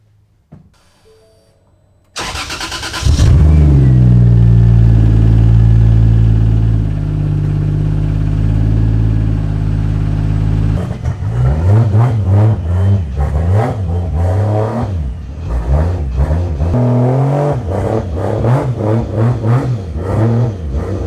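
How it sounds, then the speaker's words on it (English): A Ford Mustang with a swapped-in Toyota 2JZ engine cranks and fires, settles into a loud rumbling idle, then is revved repeatedly in sharp bursts, close and with no talking. "Battery is all hooked up in the 2JZ Mustang. Let's hop in it and see if this thing starts."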